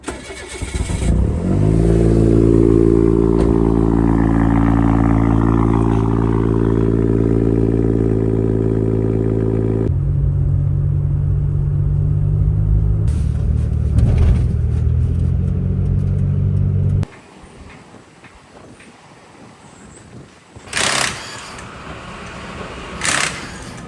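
A car engine starts and runs with a loud, steady drone that shifts and then drops away to a quieter idle, punctuated by a few sharp knocks near the end.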